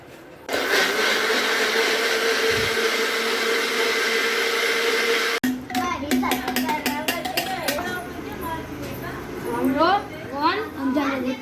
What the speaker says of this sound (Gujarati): એનું સૂપ થઈ ગયું છે રેડી એને બ્લેન્ડ કરી દો